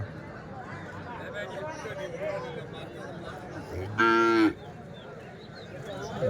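A bull calf at a cattle market gives one loud, close moo lasting about half a second, amid the murmur of people talking and general livestock-market bustle.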